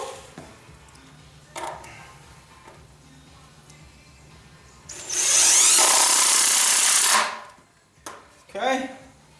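A power drill drives a long deck screw into wood, one loud continuous whine lasting about two seconds, with quiet handling clatter and someone talking before and after.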